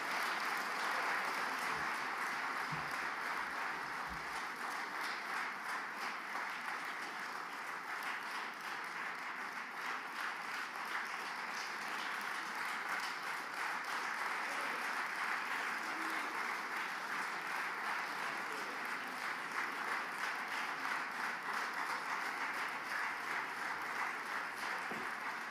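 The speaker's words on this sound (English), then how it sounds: "I would like us to give a loud round of applause to Honorable Sheikh Kavi" Sustained crowd applause at a political declaration gathering for the restoration of Biafra, a steady, dense wash of clapping that holds evenly throughout without voices.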